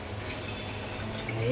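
Water is poured into a bowl to make sugar syrup for angoori rasmalai, a soft, steady rush of liquid that continues under faint background noise.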